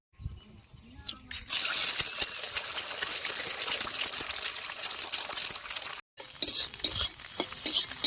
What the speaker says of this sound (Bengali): সেই তেলের মধ্যে আমি একটা ডিম ভাঙা ভুজিয়া বানাই নেবো